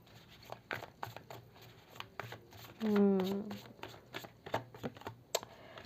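Tarot cards are shuffled and drawn in soft, close riffling clicks and taps, with a brief longer flutter partway through and a low voice murmuring underneath.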